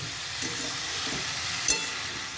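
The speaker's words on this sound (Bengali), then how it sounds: "ভালো করে মশলাটা কষিয়ে নেব" Spice masala for a cauliflower and potato curry frying and being stirred in a pan, a dense, even sizzle with soft scraping and one sharp clink of the spoon against the pan near the end.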